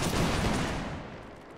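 Musket volley from a line of soldiers in a Napoleonic line-battle game, a loud, dense crackling burst of many shots fired together that decays into a rolling echo.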